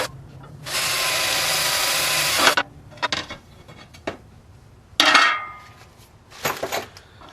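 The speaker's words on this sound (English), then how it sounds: "Okay, we're ready to go. Drill some holes." A power drill bores holes for a speaker mount plate on a truss mount, with one long steady whirring run followed by several shorter bursts and clicks, loud and close.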